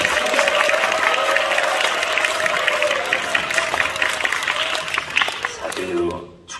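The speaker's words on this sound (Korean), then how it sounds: "박수!" Applause from a church congregation at an ordination thanksgiving service, a steady dense clapping that fills the room for several seconds and fades near the end.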